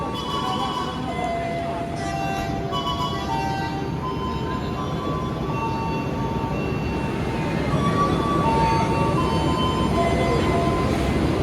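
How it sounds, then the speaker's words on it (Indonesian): Steady low rumble of the Singasari passenger train idling at Blitar station, continuous and fairly loud with faint station noise over it. "Ini ada kereta api Singasari, keberangkatan awal dari Blitar"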